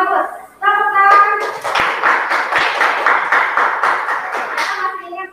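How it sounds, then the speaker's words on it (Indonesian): Students in a classroom clap their hands together in a brisk, fairly loud burst that lasts several seconds, after a brief spoken word at the start. "Bagus. Tepuk tangan."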